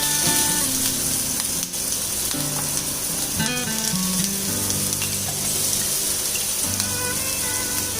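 Green chili, garlic and ginger sizzle and fry steadily in a hot pan, a dense continuous crackle with occasional stirring scrapes and no talking.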